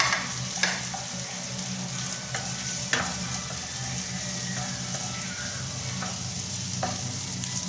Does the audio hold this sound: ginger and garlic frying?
yes